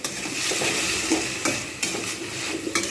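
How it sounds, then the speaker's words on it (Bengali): Tomatoes sauté in a pan for a Bengali taro (ol) curry with a steady, close sizzle, broken by a few clinks and scrapes of stirring. No one speaks. "এটাকে আস্তে আস্তে কষিয়ে রান্না করব টমেটো গলে যাবে সাথে সাথে ভাজাও হয়ে যাবে"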